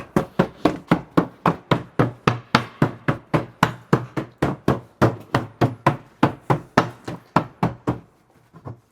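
A hammer drives a truss hoop onto a wooden cask in a fast, steady run of about thirty sharp knocks over eight seconds, close and loud, ending in a few lighter taps.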